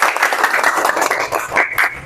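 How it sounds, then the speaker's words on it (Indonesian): A high school classroom at SMA Muhammadiyah 1 Kotaagung breaks into brisk, dense applause from many students' hands, close and fairly loud, lasting the whole short moment. "Oke, tepuk tangan. Kita beri aplaus."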